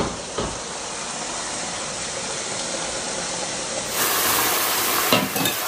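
Marinated chicken dropped into fried, oil-separated masala in a pan, giving a steady broadband sizzle and hiss that swells louder near the end, with faint stirring and no talking.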